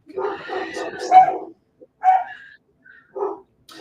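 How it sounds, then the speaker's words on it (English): Dogs bark in a quick cluster of overlapping yaps, then a few scattered single barks follow after short pauses, fairly close by. "Can you guys hear my dogs barking?"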